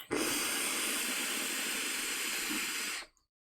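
A long inhale drawn through a Smoant Charon T50 pod mod with a 0.4 ohm coil at 30 watts and the airflow wide open gives a steady close hiss of air and vapour for about three seconds, then stops abruptly.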